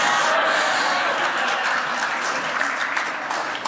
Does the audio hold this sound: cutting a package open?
no